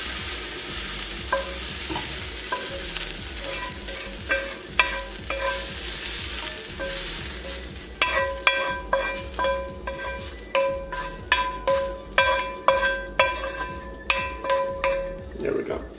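Onions and green beans being scraped from a hot pan onto a plate, a series of rhythmic metallic clanks and scrapes that grows more regular, over a fading sizzle.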